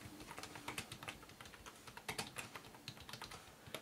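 Quick, light clicking keystrokes rattle on the small keyboard of an Asus Eee PC 700 netbook as a wireless SSID is typed, steady and close with no voices.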